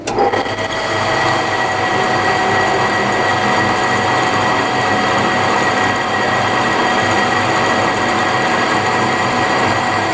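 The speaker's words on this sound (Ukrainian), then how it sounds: "Ну що ж, зараз просвернемо. Свернемо отвір." A hole is drilled into a metal wood-branding stamp, giving a steady, continuous mechanical whir with ratcheting texture that runs loud and unbroken throughout, with no talking.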